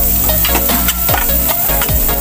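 White onion sautéing and being stirred in a hot pan, a loud continuous sizzle broken by scraping stir strokes, with no talking.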